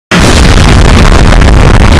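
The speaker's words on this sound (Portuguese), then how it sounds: "Aí acontece uma explosão. Bum!" A loud, sustained explosion bursts in a Superman animated film, hitting suddenly after a brief silence and roaring on as a dense, broad rumble with no speech.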